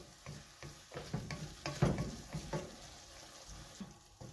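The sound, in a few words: asparagus simmering in liquid in a pan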